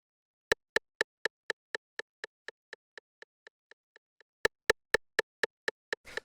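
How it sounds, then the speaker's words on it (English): An 808 rim shot sample with delay: sharp clicky hits in a steady repeating pattern that fade gradually as echoes, then a fresh loud run of strikes starts up again, alone with no talk. "this 808 rim shot"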